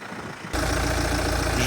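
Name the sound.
BMW X1 M Sport 2.0d 150hp engine idling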